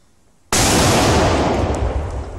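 An illegal heavy firecracker goes off with one sudden, extremely loud blast after a moment of near silence, followed by a long, roaring, slowly fading rumble close by.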